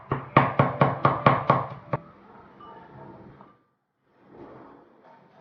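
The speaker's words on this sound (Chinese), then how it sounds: "趁这个时间，我们切点蒜末" A kitchen knife chops garlic to mince on a cutting board: about eight quick, evenly spaced knocks in a steady rhythm, close and crisp, followed by a softer scrape and brief quiet handling.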